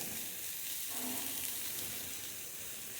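Greens fry in sesame oil in a pan, a soft continuous hiss and crackle that stays faint and even.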